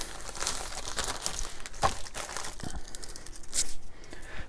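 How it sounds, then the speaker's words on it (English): Close, irregular crinkling and crackling of plastic packing material and tape while packing eBay orders, with sharper rustles and a brief tearing burst. "But all this crinkling and tape noises"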